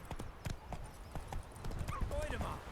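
Hooves of Roach, a horse in The Witcher 3, clatter at a gallop in a quick close clip-clop rhythm, with a brief whinny and a voice speaking over the hoofbeats.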